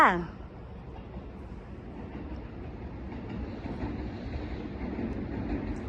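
A train in Kyoto, Japan rumbles past with a steady, rising roar and rhythmic clatter, after a brief voice at the very start.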